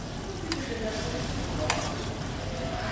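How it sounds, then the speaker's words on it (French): Aromatic butter sizzles steadily in a tilted roasting pan as it is spooned over a rack of lamb, a continuous close frying hiss with a couple of soft clinks from the spoon. "Je vais venir pencher ma lèche frite et arroser avec ce beurre qui est déjà un petit peu aromatisé."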